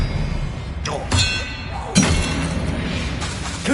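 Expelliarmus disarming spell cast during a combat trial in Hogwarts Legacy, a sudden bright magical burst over a dense bed of game music and effects, followed by a second heavier impact.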